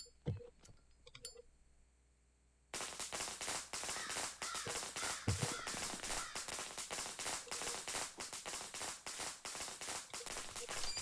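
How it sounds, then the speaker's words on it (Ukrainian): A video-game firecracker in Shadow Corridor bursts into a dense, continuous crackle of rapid pops that stays loud for several seconds after a few quiet clicks. "Це в нас петарда"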